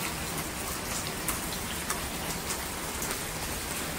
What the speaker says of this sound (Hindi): यहाँ पर बारिश हो रही जोरदार,